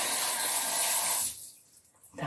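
Hot water from a shower head hisses as it sprays over indoor houseplants, a loud steady rush that cuts off partway through, followed by a few quiet drips and a brief burst as the spray resumes.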